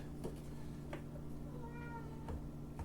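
A cat meows once, faint and drawn out, amid a quiet room with a few light knocks and a steady low hum.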